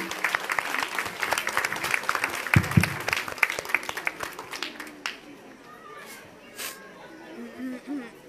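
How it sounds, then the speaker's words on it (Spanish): A crowd at a Mexicali Resiste gathering in Cuetzalan, Puebla, bursts into lively applause that fills the first few seconds, then thins out into scattered claps and quiet murmuring. "Aplausos, aplausos, compañeros."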